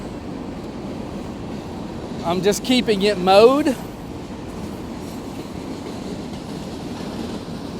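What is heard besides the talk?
long train passing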